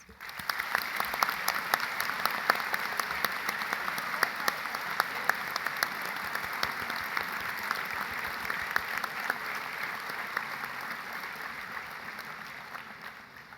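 Sustained audience applause at an NMUN New York opening ceremony, a dense even patter of many hands clapping from a large crowd, steady for several seconds before tapering slightly at the end.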